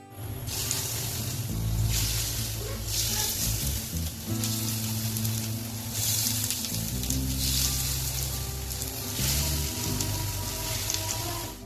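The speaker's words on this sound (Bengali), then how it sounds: "আমাদের ভালো মতো মিশানো হয়ে গেলে গরম তেলে এগুলোকে ভেজে নিব।" Okra and bitter gourd fritters frying in hot oil make a loud, continuous hiss and crackle that swells and eases in waves, with a low tonal hum running underneath.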